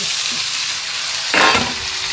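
Constant hiss of oil frying fried potatoes in a pan, with a brief louder sizzle surge midway as chicken pieces, gizzard and liver are dropped in.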